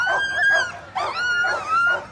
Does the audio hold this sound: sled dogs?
yes